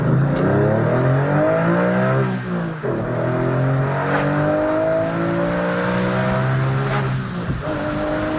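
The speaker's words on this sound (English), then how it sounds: "give it a little juice here so you get some revs" A 2004 Porsche GT3 engine revs repeatedly, rising and falling in pitch with sharp throttle blips, loud and close.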